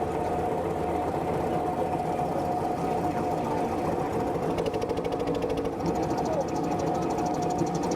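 A traditional Thames boat engine idles steadily at a show, its continuous low mechanical hum and fine rapid ticking running throughout at close range, with faint background voices.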